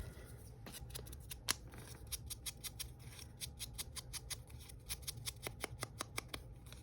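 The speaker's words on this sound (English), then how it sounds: "I stink at cutting a circle." Scissors snip through paper while cutting out a circle, a quiet series of crisp, closely spaced clicks in an uneven rhythm.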